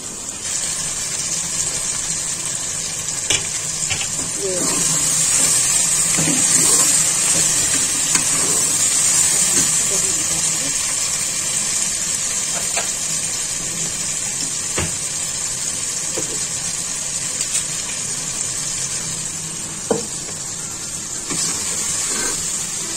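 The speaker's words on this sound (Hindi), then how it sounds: "अब इसी तेल में हम चिकन को फ्राई करेंगे" Chicken pieces fry in hot oil in a home kitchen pot, giving a steady, loud sizzle with scattered sharp pops and crackles throughout.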